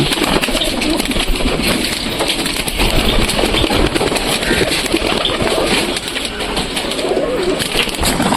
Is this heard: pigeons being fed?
yes